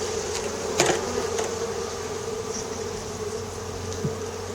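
Bees buzz steadily at an opened beehive in an apiary. The hum is a continuous close drone with a few brief louder passes as individual bees fly near, and no voices.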